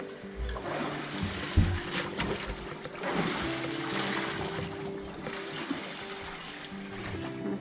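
A sailboat moves through ocean swell on the way to Dunk Island, with a steady wash of water and hull noise, occasional splashes and low rumbling thumps, close and continuous.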